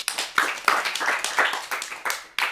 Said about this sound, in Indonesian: Oke, beri tepuk tangan dulu yuk sekali lagi untuk De Azmi.